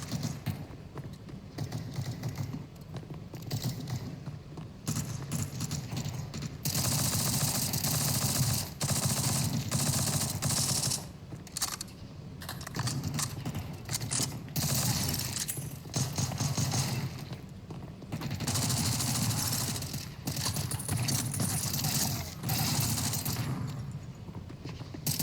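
In a video game, the Grizzly gun fires in dense, rapid bursts of shots that repeat over and over with short gaps between them, loud and close, mixed with other battle noise.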